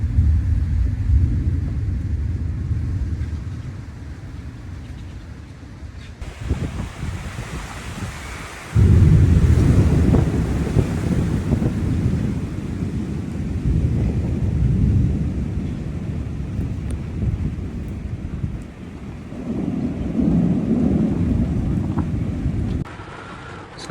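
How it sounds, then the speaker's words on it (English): Thunder rolls and rumbles from an approaching storm in South Africa's Kruger bush, low booms swelling and fading over about twenty seconds with wind buffeting the microphone and rain noise, no voices. "there's lots of thunder coming in, so I suspect we are going to get some rain tonight"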